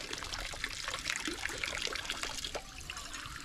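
Water from a shrine purification ladle trickles and splashes steadily into cupped hands at a Japanese shrine, a close, continuous pouring sound with no speech.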